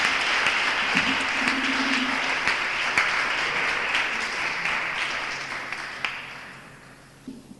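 Sustained audience applause at an afternoon event where people shared personal stories, a dense wash of many hands clapping that holds steady and then thins out and fades toward the end.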